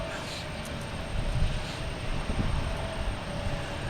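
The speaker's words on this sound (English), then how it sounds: "Next to arrive is American Airlines coming in from Chicago. Flight 2837, a Boeing 737." An American Airlines Boeing 737 arriving at Boston Logan Airport, a broad steady jet roar with rumbling swells, moderately distant and continuous.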